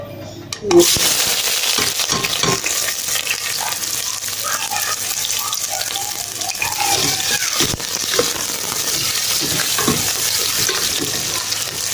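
Chopped onions fry in hot oil with a loud, continuous sizzle and hiss, broken by occasional stirring scrapes and clinks, with a sharp clatter near the start.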